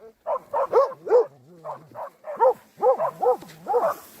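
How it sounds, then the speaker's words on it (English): Two dogs bark in a rapid series of loud, close yaps and bow-wows from a car during a tense roadside encounter with an aggressive animal, with a few whimpering yips between bursts and no talk over them. "Ну, две собаки это лучше, чем одна."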